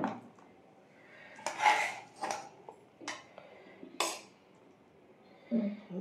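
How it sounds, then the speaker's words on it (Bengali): A mother serving rice and packing a lunch tiffin at home: scattered ceramic and metal clinks, clatters and scrapes of dishes and a serving spoon, close by and irregular, with quiet pauses between. "এই মা ভাত বাড়ছে, আমার টিফিনটাও দিয়ে দিচ্ছে একেবারে"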